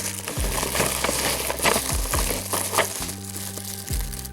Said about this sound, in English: let me just see where I can pick it up to unwrap it